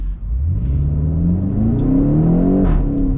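A 2016 BMW X5M performance SUV revs up close and loud, its deep engine note climbing steadily in pitch as it accelerates, then briefly dipping at a shift before continuing.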